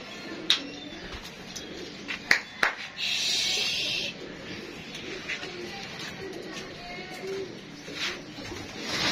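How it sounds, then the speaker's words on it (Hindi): Pigeons coo softly from a rooftop loft, the low throaty calls broken by a few sharp claps or wing flaps and a brief burst of hiss, with faint background noise throughout. "वो देखिए माशाल्लाह कबूतर।"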